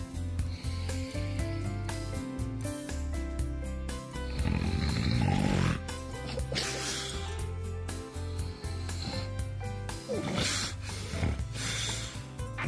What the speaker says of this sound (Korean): 심한 코골이를 하다 갑자기 중간중간 호흡을 멈추는